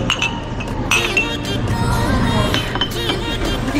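Drinking glasses clink together in a toast among a group of friends, several bright, quick chinks close up over a busy background of people chattering.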